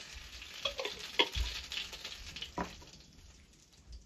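Ajwain carom seeds hit hot oil in a pan and sizzle with a soft crackling hiss, punctuated by a few stirring clinks and scrapes, close and moderately quiet.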